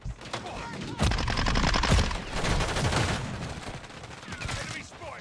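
Rapid automatic gunfire from a Modern Warfare 3 multiplayer match comes in dense bursts close by and loud, with shots overlapping one another. Game voice callouts can be heard over the shooting.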